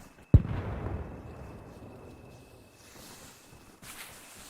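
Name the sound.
explosion in the town, from the video game ARMA Reforger DayZ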